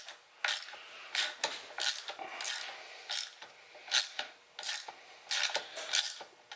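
A ratchet wrench works an 8 millimeter bolt off a radiator fan motor on a G35/350z, with repeated bursts of sharp clicking in an uneven rhythm, close and clear, no talking.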